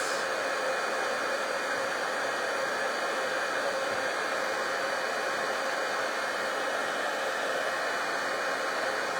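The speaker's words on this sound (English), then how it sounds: "so let's heat emboss that" Heat tool blowing hot air to heat emboss white powder in a craft project: a steady, close, hissing whoosh of blown air with a faint motor whine, constant and unbroken throughout with no speech.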